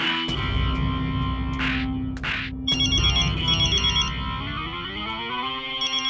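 An electronic phone ringtone chirps loudly in a repeating melodic pattern with sharp tonal bursts, alone with no talking, in an indoor comedy scene.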